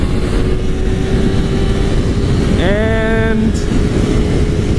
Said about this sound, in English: The wind noise is really bad here.